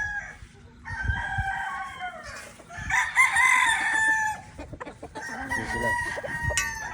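SBR gamefowl roosters crossed with Mel Sims Black crow repeatedly and close, overlapping calls with clucking, and someone speaks briefly.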